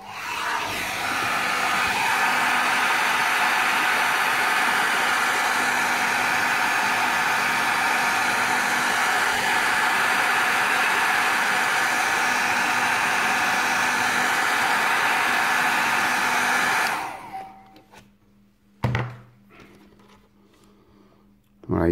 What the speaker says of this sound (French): Coup de sèche-cheveux.